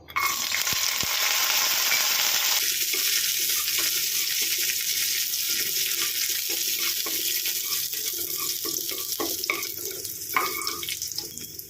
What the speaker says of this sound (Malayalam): ഇതിൽ കുറച്ച് മുന്തിരി ഇതൊന്ന് വറുത്തെടുക്കാം